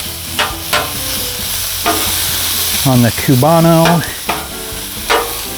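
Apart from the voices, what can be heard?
leftover pulled pork sizzling on Blackstone griddle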